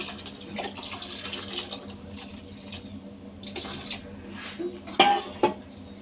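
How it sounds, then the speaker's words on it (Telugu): Tamarind juice pours into a pot of radish and onion sambar with a soft, close liquid splash, followed by a few light clinks of utensils. "చింతపండు పులుసు పోద్దామండి"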